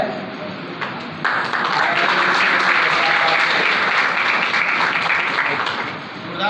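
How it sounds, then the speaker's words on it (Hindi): An audience claps at a school annual result distribution ceremony, the applause swelling in after a moment, holding dense and steady, then tapering slightly near the end. "तालियां का बजाते नहीं आप लोग"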